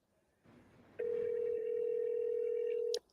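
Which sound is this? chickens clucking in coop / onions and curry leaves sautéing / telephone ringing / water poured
telephone ringing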